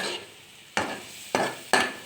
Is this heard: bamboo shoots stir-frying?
yes